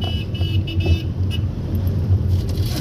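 A car with its engine running rolls steadily over a bump on a rough road in neutral, giving a continuous low rumble with faint thumps and rattles and no voices.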